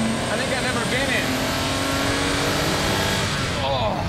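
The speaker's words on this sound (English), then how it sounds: "it is probably the most mechanical sounding engine" A Lamborghini Countach's torquey, mechanical-sounding engine drones loudly from inside the cabin while driving, with rising and falling pitch sweeps as it revs, and people talk over it.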